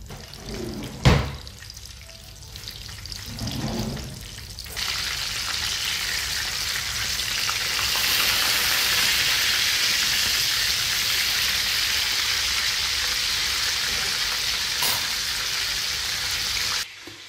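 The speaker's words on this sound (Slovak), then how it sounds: "Vysmažať budeme približne 6 minút z každej strany, radšej na menšom ohni, nech sa nám to dobre prepeče." Breaded minced-meat cutlets fry in a pan on low heat, with a steady, fairly loud sizzle and crackle after a few bumps as they are laid in.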